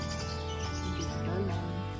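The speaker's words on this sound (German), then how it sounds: "Vogelgezwitscher?" Birds chirp and twitter continuously at a nature campsite on Lake Garda, a dense, steady chorus of overlapping calls against a constant outdoor background hiss.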